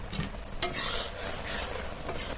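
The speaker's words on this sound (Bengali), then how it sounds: "এবার এর মধ্যে বাকি মশলাগুলো দিয়ে দেবো, দিয়ে নেড়ে চেড়ে নামিয়ে নেবো।" A spoon scrapes and stirs thick, sugary, oil-free mango pickle with spices in a pan, a soft continuous scraping with faint sizzling beneath and one brief clink of metal early on.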